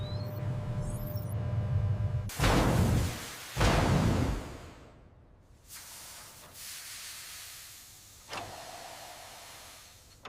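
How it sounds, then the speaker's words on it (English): Superheated steam hisses into a sterilization chamber at a toothpaste factory, heard as loud broadband bursts that surge and fade several times over a steady low machinery rumble. "Inside, superheated steam rapidly fills the chamber, ensuring complete purity."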